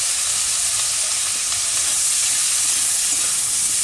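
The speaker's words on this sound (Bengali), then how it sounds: "এগুলোকেও একটু ভেজে নেওয়া হচ্ছে" Eggplant, beans and other vegetables with salt and turmeric fry in a pan for a bottle gourd and fish curry, giving a loud, steady sizzling hiss that runs unbroken throughout with no talking.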